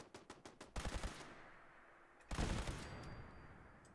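Gunfire in the video game Fallout 4: a rapid string of sharp shots, then a louder burst of several overlapping blasts after a short pause, with no talk.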